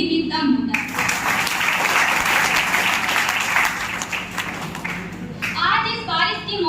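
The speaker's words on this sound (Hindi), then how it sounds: "ऐसे शुभ अवसर पर तालियां बजाकर" An audience at an Independence Day event at a pharmacy institute breaks into sustained, loud applause, with a voice speaking briefly before the clapping starts and again after it fades.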